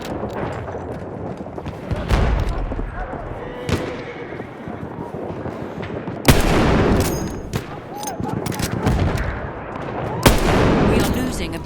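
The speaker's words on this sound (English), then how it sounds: "Throwing a grenade!" Battlefield 1 battle on the Giant's Shadow map: repeated gunfire and explosive bursts, loud and dense, with sharp blasts near the start, middle and end over continuous combat noise and voices.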